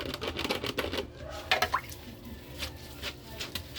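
Dishes being washed at a kitchen sink, with soft drips, splashes and clinks of wet crockery, including a brief brighter clatter near the middle, at close range with no talk.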